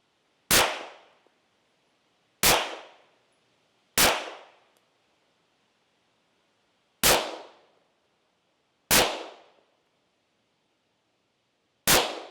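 Six sharp, loud rifle shots from a Phoenix Trinity Low Pro SSA rifle ring out alone at irregular intervals of roughly one to three seconds, each cracking then decaying quickly into silence.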